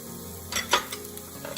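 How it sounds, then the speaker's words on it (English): Chopped cabbage and peppers dropped into a hot pan with cooked onion, giving a loud burst of sizzling and frying with a couple of sharp clatters as the vegetables land and are stirred. "We'll just toss in our cabbage and the peppers"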